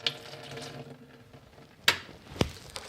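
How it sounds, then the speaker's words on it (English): Water dripping from a sink drain pipe during bathroom work: a few separate drips and splashes, faint and close, over a low background of running water. "going to drip some water."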